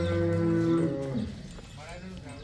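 A cow or buffalo at a farm selling cattle lets out a single long, deep moo close by, trailing off into quieter farmyard background.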